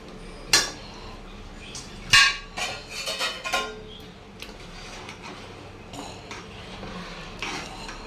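Rice and spices stirred in a cooking pot for veg biryani, with a few sharp clinks and scrapes of a spoon against metal early on, then quieter rubbing and light clatter.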